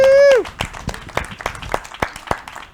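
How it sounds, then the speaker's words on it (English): A small audience at a Lake Las Vegas community event gives scattered, sparse clapping, a handful of sharp claps spread over a couple of seconds after a brief loud tone at the start. "Thank you guys for the applause that are here."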